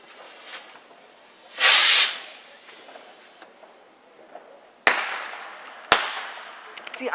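A loud fizzing whoosh of a thin firework, then two sharp bangs a second apart, each trailing off into hissing crackle outdoors at dusk.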